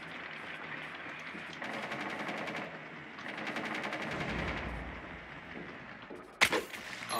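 Rapid bursts of gunfire from the Rainbow Six Siege video game, several automatic volleys in a row, moderately loud with game ambience and a sharp bang near the end.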